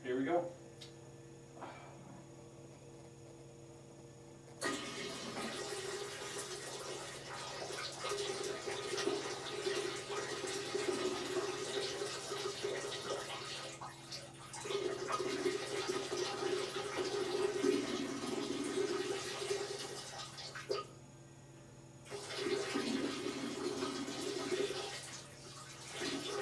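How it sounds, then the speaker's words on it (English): A stream of urine poured into a container for a distilling experiment, a steady rushing splash that starts after a quiet opening and runs in long bursts with brief pauses, close and moderately loud. "right now I'm going to be harvesting the urine that we'll be using for the experiment"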